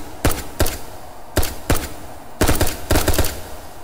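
Gun in the H3VR virtual reality game fires in sharp, loud bursts, pairs of close shots repeating several times with short gaps between them.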